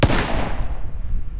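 A pistol shot in the video game PUBG Lite booms loud at the start, then fades into a rumbling tail and further faint firing.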